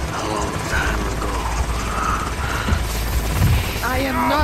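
Helicopter in the video game Call of Duty: Modern Warfare, a steady low rotor drone and mechanical hum running throughout, with someone talking over it.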